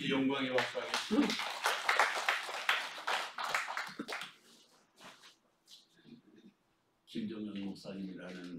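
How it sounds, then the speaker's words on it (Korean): A church congregation claps in praise, with quick, lively clapping for about four seconds. Someone speaks briefly afterward. "우리 하나님께 영광의 박수하겠습니다."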